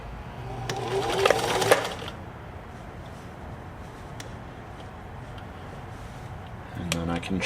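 New Home 560 sewing machine stitching at zero width with the needle centered, a short burst of rapid mechanical whirring near the start and another at the end, with a quiet stretch between and no talking.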